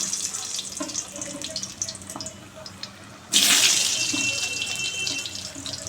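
Potatoes frying in hot mustard oil, a hiss that bursts in suddenly partway through and stays loud and steady over faint kitchen background.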